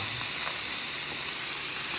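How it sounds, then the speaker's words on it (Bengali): Prawns frying directly in a hot pan give a steady, close hiss and sizzle that runs unbroken for the whole stretch, with no voices over it. "এবার চিংড়ি মাছগুলো ডিরেক্ট ভাজাভাজি"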